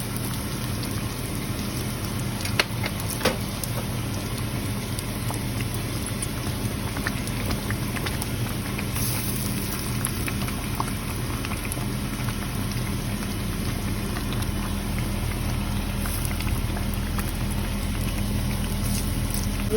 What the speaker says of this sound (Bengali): ডালটাকে ফুটে নেব এখন